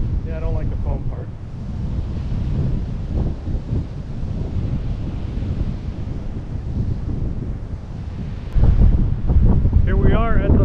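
Wind buffeting the microphone with rumbling ocean surf on a Florida beach near the Pensacola Pier, a steady loud roar that gets a little stronger near the end, with short stretches of talk at the start and finish.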